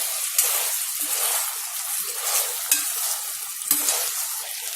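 Crispy chicken frying and sizzling in a pan while being stirred, a steady close hiss with a few sharper scraping stirs spread through it and no voices.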